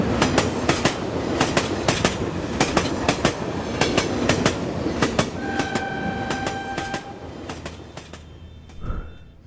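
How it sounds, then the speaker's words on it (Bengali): A train rolls into Ballygunge station with loud, rhythmic clickety-clack wheel beats close by, a brief high wheel squeal in the middle and a slowing fade toward the end. "আর ট্রেনটা এসে"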